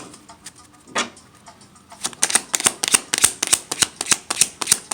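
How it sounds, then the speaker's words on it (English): A deck of tarot cards is shuffled by hand: a few soft handling rustles, then a quick run of crisp, close riffling snaps in a fast, fairly regular rhythm. "I'm gonna do a shuffle."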